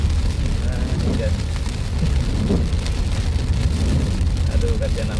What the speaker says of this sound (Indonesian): Hujan ya guys.